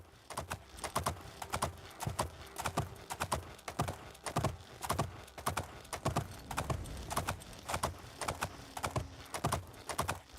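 A horse in the video game Oblivion trots with steady, rhythmic clip-clop hoofbeats, an even pattern of moderately close, sharp thuds continuing throughout.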